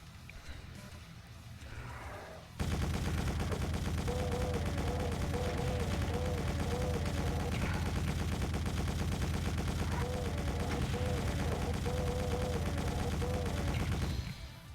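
A chaingun firing in the video game Doom, a dense, continuous rattle of rapid shots that starts abruptly after a quiet moment, holds loud and steady for about twelve seconds, then cuts off.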